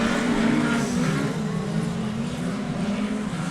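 Midget race cars roar around a track in a continuous, loud engine drone, pitch rising and dipping slightly as they race past each other, with no clear voices.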